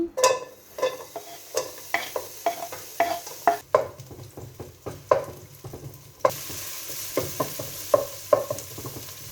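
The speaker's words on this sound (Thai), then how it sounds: "เจียวหอมแดงให้หอม" Sliced shallots fry in oil in a pan with a continuous sizzle, while a spatula scrapes and taps against the pan in a busy, irregular rhythm of repeated stirring strokes.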